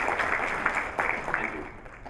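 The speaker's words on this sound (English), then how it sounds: "give a big round of applause to Raveen and his team" A conference audience at a brand festival talk claps for an organising team, a dense, steady wash of applause that holds evenly for about two seconds.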